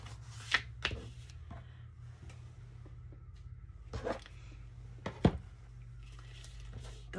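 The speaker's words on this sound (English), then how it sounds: "Get my scissors, go up a little bit from the fold and just cut at an angle." Scissors cut at an angle through folded book-page paper for a journal insert: a few crisp, close snips with light papery rustle and handling between them, and no talking.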